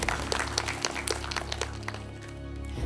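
Applause from a quiz show studio audience, brisk and bright at first and then thinning out toward the end, with light taps and shuffling.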